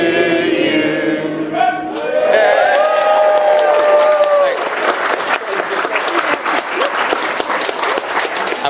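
A small gathering finishes singing a birthday song, and the crowd breaks into loud, close applause with some cheering. The clapping continues steadily to the end.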